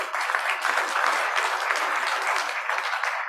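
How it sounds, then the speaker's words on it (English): Applause from a meeting audience greeting Jude Berry, a steady wash of many hands clapping at even loudness throughout, without voices over it. "Let's give Jude a round of applause."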